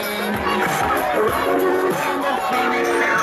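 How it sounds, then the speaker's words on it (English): Loud parade crowd at a July 4th parade in Loveland, Ohio, cheering, whooping and shouting together in a dense, continuous roar, close and sustained with overlapping voices. "The crowd is literally going wild right now."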